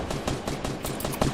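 Rapid gunfire from a Fortnite tournament match rattles in dense, loud bursts of shots with almost no pause, and no voices over it.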